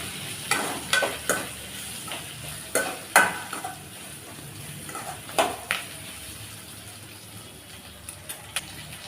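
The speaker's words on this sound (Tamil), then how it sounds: "எல்லாத்தையும் சேர்த்து நல்லா வதக்கி விட்டுக்கலாம்." Brinjal masala with grated coconut sautés in a pan, a constant soft sizzle broken by repeated quick scrapes and taps of a spoon stirring the mixture.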